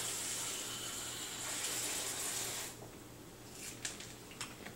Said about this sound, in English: I'm just going to get some water.